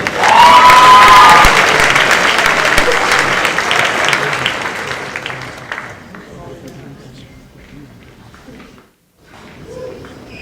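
A loud round of applause fills a high school academic awards ceremony for a large group of students, strong at first, then tapering into scattered claps before brief quiet and a voice.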